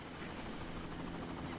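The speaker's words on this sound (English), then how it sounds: "I hear helicopter." Helicopter in the video game Far Cry, a steady rotor drone with a regular pulsing beat, held at an even moderate level throughout the short stretch with no talk.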